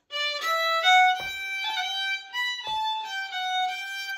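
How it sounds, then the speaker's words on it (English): A fiddle plays a Donegal-style tune phrase with long roll ornaments, clear sustained bowed notes broken by quick flicked grace notes, steady and close with no talking. "In the tune, whereas the long roll sounded like this,"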